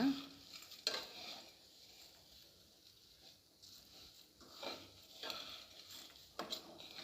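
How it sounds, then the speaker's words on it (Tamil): Chivda mixture with roasted gram, peanuts, raisins and cashews stirred in a pan, giving soft dry scraping and rustling strokes at a steady pace, with a few sharper scrapes, close by and alone. "இப்போ இதெல்லாம் நல்லா கொஞ்சம் கலந்து விடுங்க."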